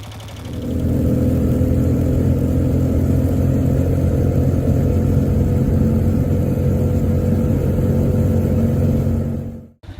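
A BMW R27 250cc single-cylinder motorcycle engine runs steadily at a loud, even idle-like drone, close and alone, then cuts off abruptly at the end.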